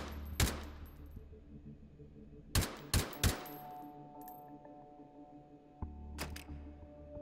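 Gunshots fired in the VR shooter Hot Dogs, Horseshoes & Hand Grenades on an HTC Vive, on the Island Compound custom map: sharp, loud single cracks and a quick burst of three, spaced out over a quiet background hum.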